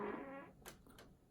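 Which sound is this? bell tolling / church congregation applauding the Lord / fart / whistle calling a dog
fart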